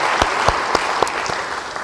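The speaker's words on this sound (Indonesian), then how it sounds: "Beri tepuk tangan buat darah Yesus." A church congregation applauds during a worship service, a dense, steady wash of clapping with a few sharper claps standing out, loud and close, with no speech over it.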